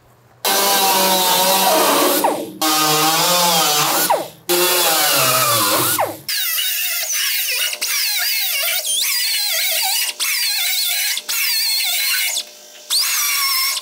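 An electric grinder cuts down spot welds on 1960-66 GMC/C10 truck cab sheet metal, giving a loud, steady, high whine broken into repeated bursts. The pitch shifts as the disc bites, and the tone turns thinner and harsher in the later passes.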